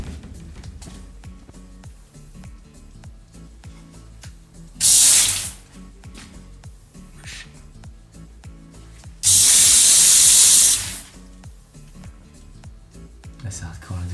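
A bathroom shower sprays in two loud bursts of rushing water, one short and one lasting several seconds, between stretches of people talking and quieter room noise.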